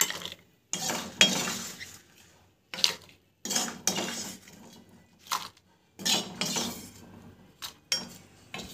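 Cooked food is scooped from a pan into a bowl in short bursts of metal scraping and clinking, separated by brief pauses, close and clear.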